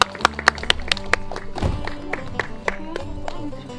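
A small group claps at the close of a year-long rural farm school session, with uneven scattered claps close by and a few voices murmuring underneath.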